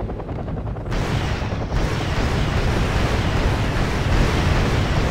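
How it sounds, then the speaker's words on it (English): Apache helicopters launch anti-tank guided missiles in the real-time strategy game Wargame: European Escalation, making a dense, loud, continuous roar of launches and explosions that thickens after the first second, with no talking. "my Apaches have the chance to fire their ATGMs at them, no problem"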